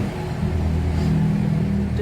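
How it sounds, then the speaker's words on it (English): Road traffic rumbles steadily past a churchyard in Linton, a continuous loud engine drone close by with no voices. "Just mind the traffic there."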